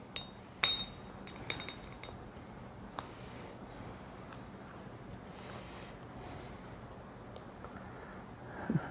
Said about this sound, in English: Now let me get my spatula here. Put it under here. Get my plate over here closer.